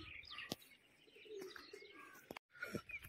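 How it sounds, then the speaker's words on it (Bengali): Pigeons coo and chirp around Bhangarh Fort, several short calls scattered across a quiet outdoor scene, with one sharp click and a brief dropout near the end. "অসংখ্য পায়রা উড়ে বেড়াচ্ছে"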